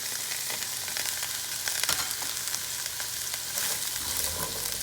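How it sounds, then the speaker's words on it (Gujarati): Cauliflower and potatoes frying in hot oil with asafoetida, giving a steady, close, hissing sizzle that carries on without a break, with no voices. "તેલ ગરમ થઈ જાય એટલે એમાં હિંગ નાખી અને આપણે પહેલાં કોલીફ્લાવર નાખી દઈશું."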